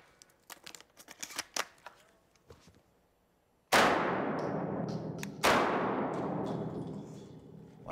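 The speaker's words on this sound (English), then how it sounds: "I shoot a Benelli M2 12-gauge semi-automatic" Two loud, sharp blasts from a Benelli M2 12-gauge semi-automatic shotgun, each followed by a long decaying echo, preceded by a few seconds of small clicks and handling noises.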